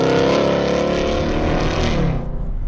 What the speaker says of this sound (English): One of the most unique engine notes of all time, and truly one of the greatest.